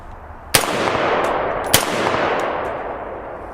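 Two sharp, loud rifle shots fired outdoors through a DNT night vision optic setup, spaced just over a second apart, each followed by a long rolling echo that fades slowly.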